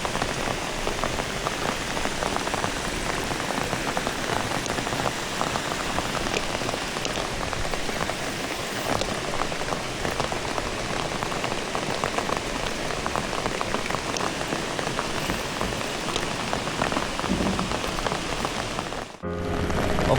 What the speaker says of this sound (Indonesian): Kondisinya benar-benar full hujan.